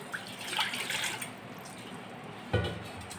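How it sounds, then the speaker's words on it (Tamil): Water is poured onto rice and lentils for ven pongal, a close, gentle splashing pour that runs on and then ends with a short, louder splash. "இப்போ அதில் இந்த கிண்ண அளவுக்கு நான் தண்ணி ஊற்றுறேன்."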